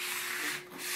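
A squeegee rubbed firmly with heavy pressure over a vinyl decal during installation, producing a steady close rasping scrub with a brief dip before resuming.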